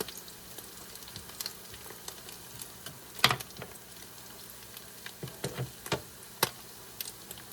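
Salmon patties fry in a pan with a quiet steady sizzle, broken by scattered pops and ticks, heard close and alone without talk.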